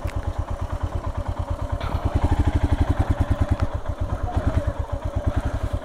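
A motorcycle engine idles close by in Leh, Ladakh, with a steady, rapid thumping beat and some mechanical clatter, heard alone and fairly loud throughout.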